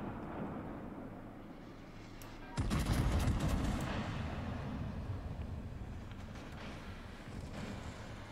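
Naval guns in a warship video game let off a sudden loud broadside, a crackling burst of several shots that booms and rumbles away slowly, with a few fainter distant shots afterward.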